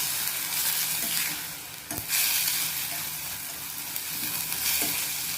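Fenugreek leaves sautéing in a little oil in a pan, a steady close sizzle with stirring scrapes and a couple of sharper clacks of the spatula, no talking.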